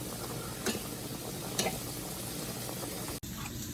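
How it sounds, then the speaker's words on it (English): Green beans sautéing in a pan give a steady, soft sizzle throughout, with a couple of brief clinks from stirring and a short dropout near the end. "so we're just going to saute these for a few minutes"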